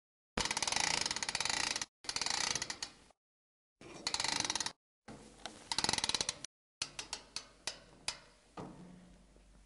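A Green hoof trimming chute's mechanism ratchets and clanks in several bursts as it locks and lifts a cow's back leg, with short pauses between the mechanical clicking runs and sharper individual clacks at the end.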